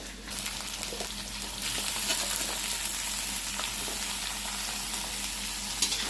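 Jackfruit, sweet potato, potato and other vegetables fry for a Bengali pachan in a pan, with a steady close sizzle running throughout.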